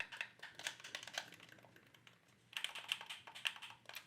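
Game controller buttons are pressed in quick, light, crisp clicks, in two scattered bursts with a short pause between, faint and close, with no talking.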